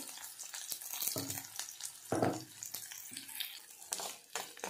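Chopped onion fries with cumin in a pan as a soft, low-level sizzle, broken by a few stirring scrapes and knocks. There is no talk.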